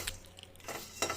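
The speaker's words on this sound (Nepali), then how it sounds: "मस्याम भुट्दै हुनुहुन्छ यहाँ" Village organic soybeans roasting in a pan, with faint stirring scrapes and light metallic clinks of the utensil against the pan coming in a few short bursts.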